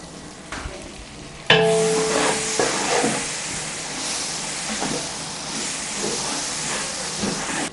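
Ginger garlic paste hits hot oil in a large chicken biryani pot, bursting into a loud steady sizzle and hiss that continues with stirring scrapes underneath.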